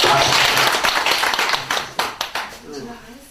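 Students at a Buddhist college lecture clap together, a dense burst of applause that thins into a few separate claps and fades out near the end.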